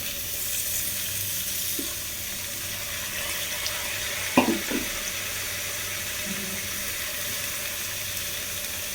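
Chopped radish goes into a hot pan for prawn curry, giving a steady faint sizzle and a brief clatter partway through before the frying settles back to a soft hiss.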